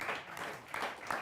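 An audience at a Hindi political poetry show claps in a brief, moderately loud burst of applause that rises and falls in a couple of quick waves.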